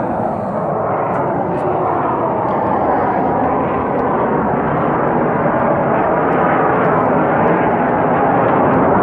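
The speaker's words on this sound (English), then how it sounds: "Let me wait for this plane to go by." A loud, steady roar of an airplane passing overhead, filling the whole clip with a broad, continuous engine rumble.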